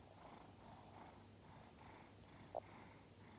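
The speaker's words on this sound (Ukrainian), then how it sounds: "лежить на мені, спить, мурчить" A cat lying on a person purrs softly and rhythmically close up, a quiet low rumble with a tiny snuffle near the end.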